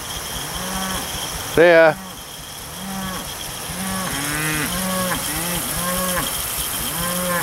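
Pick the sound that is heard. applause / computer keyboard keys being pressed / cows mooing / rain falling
cows mooing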